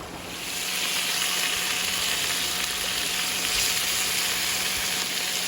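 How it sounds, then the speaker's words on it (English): A creek flows steadily beside a forest campsite in Toiyabe National Forest, a constant close rushing wash of water with no break. "listening to the creek"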